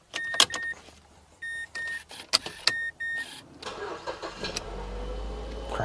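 A car fitted with a newly installed remote starter chirps with several short electronic beeps and clicks, then the engine cranks briefly and catches, settling into a low steady idle, fairly close and with no talking.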